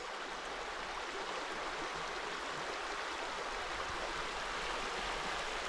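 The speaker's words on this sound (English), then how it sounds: "And this is the River Brathay" The River Brathay flowing beneath Slater Bridge, a 17th-century stone packhorse bridge, as a steady, close rushing of water with no voices.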